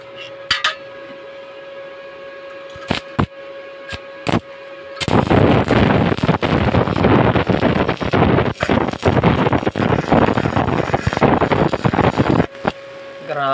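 An INGCO welding machine set to 315 amps burns through 3 mm metal plate, a loud, harsh crackling hiss that kicks in abruptly after a few sharp clicks and sputters on steadily close to the microphone.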